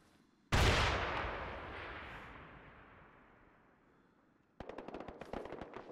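Gunfire in the video game Arma 3 on the Zaros King of the Hill map: one loud blast whose echo fades over several seconds, then a burst of rapid automatic shots.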